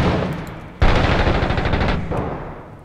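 Rapid automatic gunfire in the video game Six Days in Fallujah, a loud close burst of rattling shots after a quieter opening, with a fainter trailing volley and no talk.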